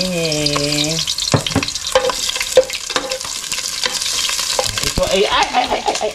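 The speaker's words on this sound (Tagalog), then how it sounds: "lagyan natin ng konting mantika lang para igisa doon sa ano" Chicken sautéing in a little cooking oil in a pan, a loud steady sizzle with spatula stirring and scraping clicks, after a brief musical tone at the start; no talking.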